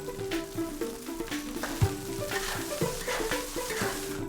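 Eel and cooked rice stir-fried together in a hot oiled pan, a steady close sizzle broken by scraping and clanking as the spatula turns the mixture, with a few sharper knocks.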